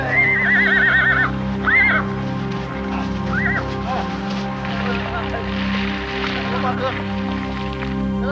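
Horses on a snowy mountain trek in Afghanistan neigh and whinny repeatedly, several calls rising over a steady rumble and hoof clatter, while a voice talks faintly under them.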